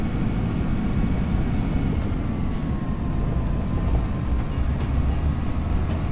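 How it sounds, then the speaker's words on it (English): Train in Farming Simulator 25 on the Riverbend Springs map rumbling past as a steady, broad low roar that holds at even loudness throughout, with a faint squeal riding above it. "Oh, we just missed the train."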